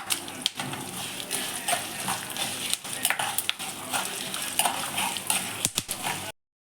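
Byadagi chillies frying in hot oil while a utensil stirs them in the pan, a close sizzle punctuated by repeated sharp clinks and scrapes of metal.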